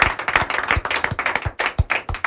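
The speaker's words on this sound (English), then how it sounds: "That's all canned applause" Canned applause on a radio show: a short burst of dense clapping, loud and close, with uneven surges and brief dips.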